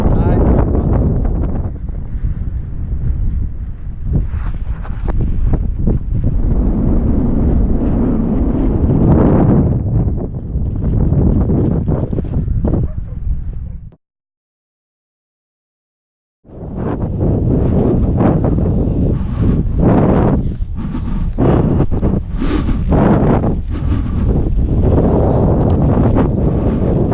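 Strong wind buffeting the microphone at the beach during a high-wind kitesurfing session, a loud continuous roar that cuts out briefly midway and then resumes.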